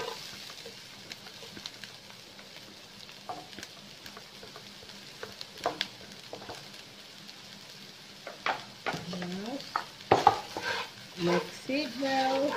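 Chopped onion frying in oil in a pan for samosa filling, with a steady sizzle and repeated scraping stirs that grow louder and busier toward the end.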